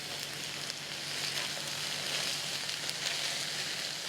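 Zucchini, squash and eggplant pieces sizzle steadily in a pot, a constant soft crackling hiss heard alone at moderate volume.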